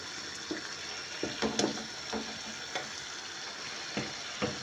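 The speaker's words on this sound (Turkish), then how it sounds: "Menemenim güzel güzel pişiyor." Menemen, a tomato and egg dish, simmering in a pan as the tomato sauce cooks down, a soft steady sizzle broken by occasional light clinks and stirring scrapes, close and quiet with no talking.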